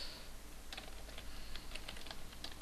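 Rapid clicking keystrokes on a computer keyboard while code for a rewrite rule is entered, an uneven close patter of taps over a faint background hum, with no talking.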